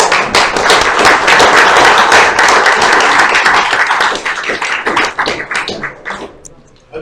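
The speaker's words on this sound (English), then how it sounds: "Let's give a big round of applause." Audience members at an SCV Camp 265 gathering applaud after a presentation, a loud, close burst of many hands clapping that thins into scattered claps and fades near the end.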